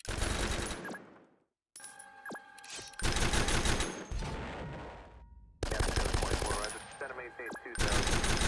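Machine gun fire in the Roblox combat game Noobs In Combat, coming as loud dense bursts broken by short pauses, with ringing electronic tones mixed in.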